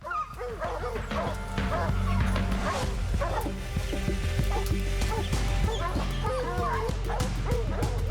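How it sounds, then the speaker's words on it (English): A pack of hunting hounds bays and barks while chasing a black bear in a swamp, a dense, continuous chorus of overlapping yelps and howls at middle distance, loud and relentless throughout. "You hear those hounds going after a bear."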